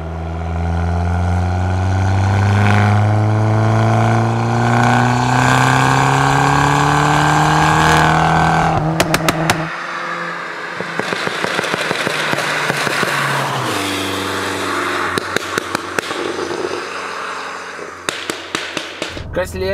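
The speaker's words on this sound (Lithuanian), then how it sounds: "parodysim, kaip skamba Fiatas" Fiat Abarth 500 driven on a wet road, the engine revving loudly through rising gears with a sharp burst of exhaust crackles and pops, then lower running with repeated pops, heard from inside the car.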